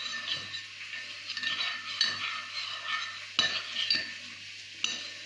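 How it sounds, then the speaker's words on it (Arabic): Red lentils and mixed vegetables fry in a pot with a little water. A crackling sizzle runs under repeated scraping and clinking stirs of a utensil against the pot, close and fairly clear, with no talking. "العدس تاعنا راهي يتقلى، الخضر كامل"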